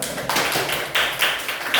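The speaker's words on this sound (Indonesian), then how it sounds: "Beri tepuk tangan dulu." A few sharp claps in a slow, irregular rhythm, close and fairly loud, with no talking.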